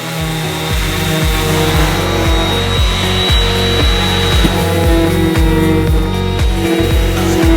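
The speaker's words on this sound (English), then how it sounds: "I'm going to go ahead and sand along this edge just because it's rough" Rough edge of cut wooden trim pieces sanded by hand in steady, rhythmic back-and-forth strokes, close and fairly loud, with a faint high whine in the background and no talking.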